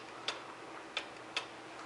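An early Black Forest Biedermeier cuckoo clock in a fruitwood case, c. 1850s, by Theodor Ketterer of Furtwangen, ticks three times, crisp and close, in a quiet room.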